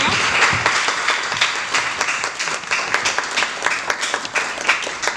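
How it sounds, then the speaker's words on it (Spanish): Sustained audience applause for a speaker at an academic talk, dense clapping filling the room steadily for about five seconds, with no voices standing out. "Me gustaría que le dieran un aplauso al maestro por su participación."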